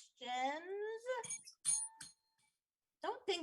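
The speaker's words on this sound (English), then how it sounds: "Don't ding the bell yet." A game show bell dings in bright, ringing strokes, mixed in among nearby speech.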